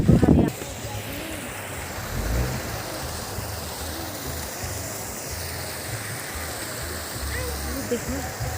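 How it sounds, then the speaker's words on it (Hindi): A waterfall and stream pour steadily near Ramni village, a broad continuous rush of water filling the scene, with a brief louder knock at the very start and faint background sounds throughout. "झरना ऊपर बहता हुआ झरना। ये देखो धारे का पानी"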